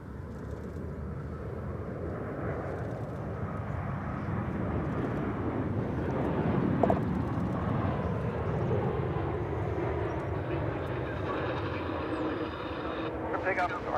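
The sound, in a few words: airplane taking off at Dallas/Fort Worth Airport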